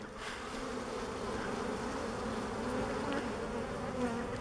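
Honey bees in a split hive swarm over newly made queen cells, a steady, dense buzzing that holds close and even throughout with no talking.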